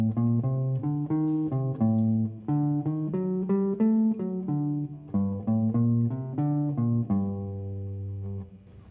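Clean jazz guitar runs up a minor mode and back down a triad in an even stream of picked single notes, close and clear, settling into a sustained low tone at the finish.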